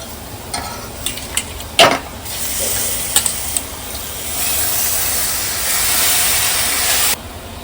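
Mutton being stir-fried in roasted masala in a pan, a steady sizzling hiss with a few scraping stirs near the start, louder frying through the middle and then cutting off abruptly near the end.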